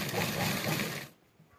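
A sewing machine stitches a blouse, giving a dense, steady mechanical whir for about a second before it stops and leaves a quiet room with no talking.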